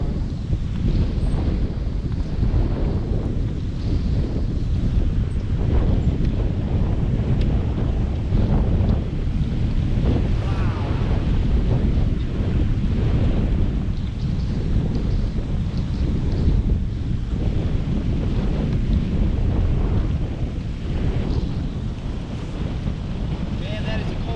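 Strong cold-front wind of at least 20 miles an hour roars steadily into the microphone at Lake Lanier with heavy buffeting, a continuous loud rush that never lets up, with lake water sloshing faintly beneath.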